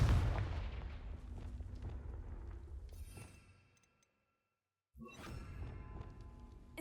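A Confringo fire spell blast from the Hogwarts Legacy video game erupts in a loud booming burst that rumbles and fades over a few seconds, falls to silence, then gives way to a fresh burst of noisy game effects.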